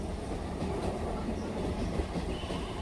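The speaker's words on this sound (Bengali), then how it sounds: "রীতিমতো আমি ট্রেনে উঠে গেছি।" Steady low rumble of a moving passenger train heard from inside a carriage on a quiet morning commuter line in West Bengal, with continuous wheel and carriage noise and no talking.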